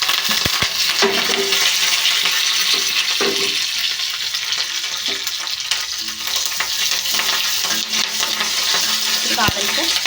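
Garlic and spices fry in hot oil for a dal tempering, a loud continuous sizzle with occasional stirring clinks and scrapes of a utensil against the pan, close and steady throughout.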